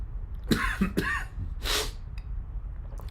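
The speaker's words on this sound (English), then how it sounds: "I'm coughing." A man coughs twice in quick succession, close and loud, then gives a rougher throat-clearing hack a moment later, during a livestream.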